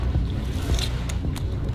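Sailboat setting out on a passage toward Fiji, with a steady close wind-and-water rush, low engine-like rumble and a few faint clanks of rigging, no voices.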